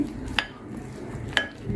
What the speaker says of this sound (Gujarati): અને પહેલાં હલાવી લઈએ છીએ સરસ રીતે